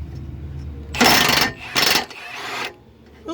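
Tools removing 18 mm front suspension bolts on a GMT400 truck: two loud bursts of grinding, rattling mechanical noise about a second apart, then a softer scraping stretch, close by with no talk.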